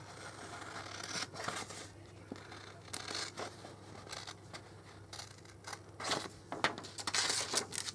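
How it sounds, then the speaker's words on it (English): Intermittent crisp snips and rustles of large scissors cutting through paper for a papercraft box, several cuts spread across the clip at close range with no talking. "you're going to take your big scissors, whichever big scissors you use"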